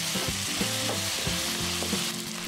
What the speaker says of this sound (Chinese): 接着放入排骨，老抽8克，料酒10克，翻炒均匀